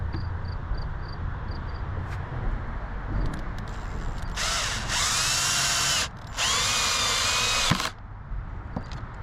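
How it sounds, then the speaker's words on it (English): Power drill running at low speed driving threaded inserts into a guitar pedal board, two sustained whirring bursts separated by a short pause, after quieter handling sounds and faint ticks. "when you're drilling in these inserts, it is best to have the drill set to the lower speed"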